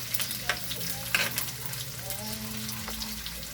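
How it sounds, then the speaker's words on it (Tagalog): Onions sautéing in a wok for pinakbet give a steady, close sizzle with light stirring scrapes and a low hum beneath, no voices. "Naamoy mo na guys ang aroma ng ating ginigisang sibuyas."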